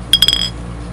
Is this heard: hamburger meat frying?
no